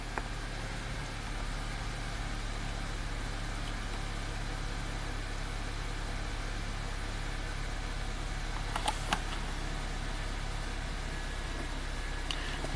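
An Acura RDX engine runs steadily with the throttle held wide open, a constant mid-pitched drone and vibration that never lets up, with a couple of faint clicks near the end and no talking.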